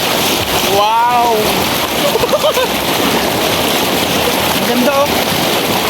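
Waterfall water pours and splashes onto people at a village outing, a steady loud rushing wash that runs throughout, with excited voices calling out over it.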